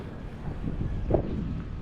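Steady wind buffeting the microphone in the mountains of Corsica, a low rumbling roar with gusty surges, heard alone without voices.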